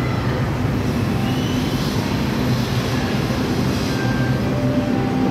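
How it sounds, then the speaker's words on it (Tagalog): Commuter train rumbling into a station platform on a line running toward Balintawak and Monumento, a steady loud low roar of rail noise throughout with no voices. "So antayin natin yung kasunod na train."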